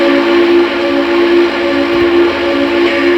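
A Lionel Vision Line Big Boy model steam locomotive whistle blows loudly and continuously, a sustained chord-like tone holding for several seconds with slight wavering.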